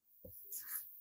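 A word being handwritten on paper, a short scratchy burst of pen strokes lasting about a second, close and quiet.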